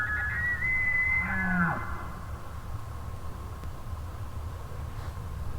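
A bull elk's bugle carries from a basin below a ridge line in the October field, a single high, rising whistled call that slides upward then breaks off, set against steady low wind rumble with no voices.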